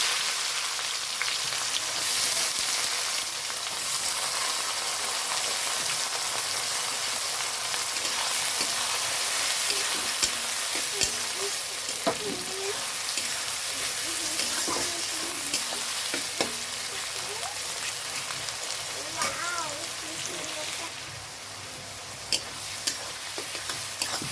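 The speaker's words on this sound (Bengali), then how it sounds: "পেঁয়াজ দিয়ে দিলাম।" Onions frying in a pan for a spicy mutton curry, a loud continuous sizzle with occasional stirring scrapes throughout, close and steady with no talk.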